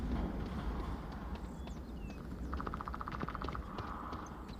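Footsteps of a player in the VR shooter Onward: a rapid run of soft footfalls and a brief rhythmic rattle of gear, low in level over a constant noisy hum.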